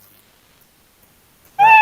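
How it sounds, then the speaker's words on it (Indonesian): A loud, sudden cat meow sound effect bursts out at the very end after near silence, played from a coding program during a training session. "ini meong-meong terus Pak ya"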